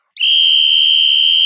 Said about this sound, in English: Where'd you get the whistle?